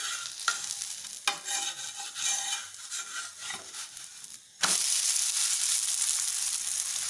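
Grain adai made from native rice, flipped in a pan of hot oil: a soft stirring and scraping sizzle, then a sudden loud, steady sizzle after the turn, close up with no voices.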